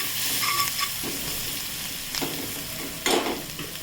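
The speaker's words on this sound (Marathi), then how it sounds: "लाल तिखट घालायचं चवीनुसार कोथिंबीर घालायची त्याला परतून घ्यायचं छान" Bitter gourd masala sautéing in a pan with red chili powder and coriander, a steady close sizzle broken by a few scraping stirs of the spatula.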